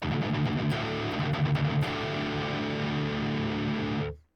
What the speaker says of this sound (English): we are just going to play the open D